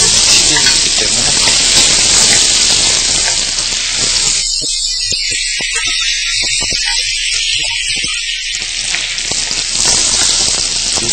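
Butter frying in a pan with caramel and bananas for a banana tart, a steady loud sizzle that runs throughout, with a voice talking over it at the start and near the end.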